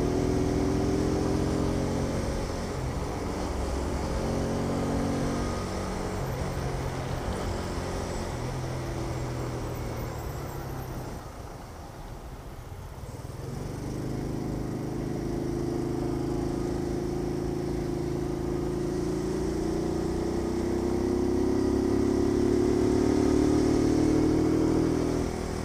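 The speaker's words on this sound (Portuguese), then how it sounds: "vou deixar vocês ouvindo o som da moto." A Shineray Jet 90cc motorcycle, registered as a 50cc, being ridden: its engine drones loud and close throughout, revs rising and falling, easing off briefly midway before pulling strongly again.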